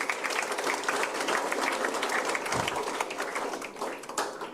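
An audience at an education talk breaks into loud, dense applause, many hands clapping steadily throughout and easing slightly toward the end.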